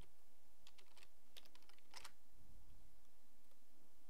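Quick clicking keystrokes on a computer keyboard, a short burst of close, light taps in an otherwise quiet room.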